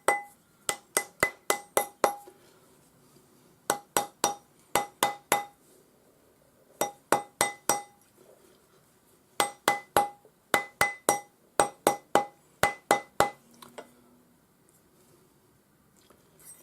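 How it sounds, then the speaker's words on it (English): A rawhide hammer taps a ring on a steel ring mandrel in quick bursts of four to six crisp, ringing strikes. Short pauses separate the bursts, and the taps sound close and clear in a quiet workshop. "Round up your rings on the ring mandrel with the rawhide hammer."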